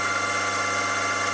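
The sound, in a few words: drill running at 1600 rpm, 3mm bit into steel strip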